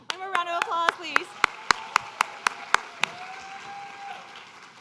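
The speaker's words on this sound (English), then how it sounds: "One more round of applause, please." Applause at the Women's Leadership and Policy Summit: a sparse, slow clapping of a few distinct sharp claps in a steady rhythm, fairly faint in a quiet room, with a voice speaking briefly at the start.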